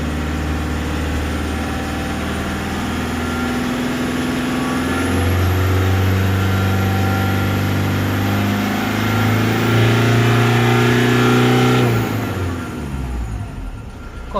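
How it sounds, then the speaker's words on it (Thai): A car engine revs up loudly from idle, its pitch rising and holding in a sustained roar before dropping back down near the end. "เราก็เหยียบคันเร่งเลย ใช้เท้าเหยียบเลยครับ เร่ง"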